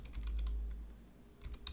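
Keys clatter on a computer keyboard while code is typed, a few quick bursts of close taps separated by a short pause.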